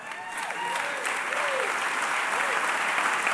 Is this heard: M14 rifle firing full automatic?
no